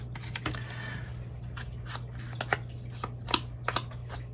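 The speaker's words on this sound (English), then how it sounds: "I'm just kind of cutting an inch or so off, and then I can trim up as we go" Scissors cutting strips from junk envelope paper, a close series of crisp, irregular snips and paper crinkles over a steady low hum, with no talking.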